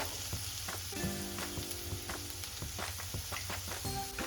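Whole masoor lentils sautéing in oil in a pan, a constant close sizzle with light stirring clinks and scrapes, no talking.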